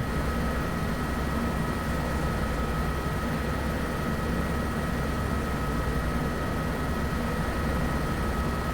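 A helicopter in Microsoft Flight Simulator 2024 cruises at about 125 knots over dense bush near Kruger, giving a steady, even engine and rotor drone that holds unchanged throughout.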